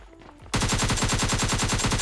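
Automatic gunfire in a battle royale video game: a rapid, even burst of shots begins suddenly after a short quiet moment and continues without a break, loud and close.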